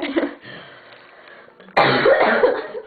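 A sharp, loud cough bursts out after a quieter stretch of murmuring voices, followed by a few seconds of harsh, rough coughing sound.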